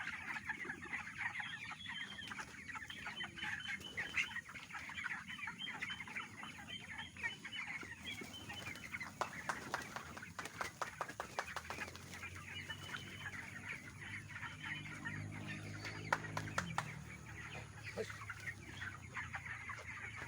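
Broiler chickens in a poultry farm shed give a continuous murmur of clucking and soft calls from many birds, faint and steady with scattered sharper sounds and no talk.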